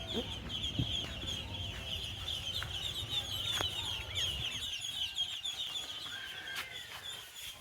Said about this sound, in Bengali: এখানে প্রতি বাড়িতেই হাঁস মুরগি পালন করা হয় দেশি হাঁস মুরগি